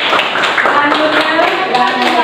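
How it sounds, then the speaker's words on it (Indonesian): Classroom applause during a teaching-practice session: dense, steady clapping from a nearby group of students, continuous for about two seconds with faint voices mixed in. "Kasih tepuk tangan lagi."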